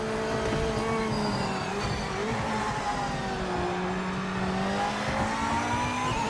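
Racing car engines in the video game Project Motor Racing roar continuously with rising and falling revs, layered tones from several cars close by, no talking.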